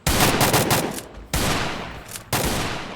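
Gunfire in a video game comes as three loud, close bursts of rapid shots, each fading out before the next begins, with no talking.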